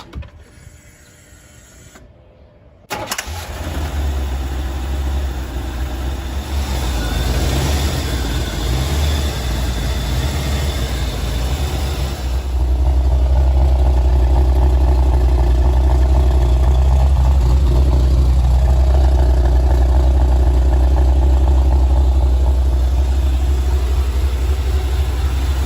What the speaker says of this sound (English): And I'm ready to start the car.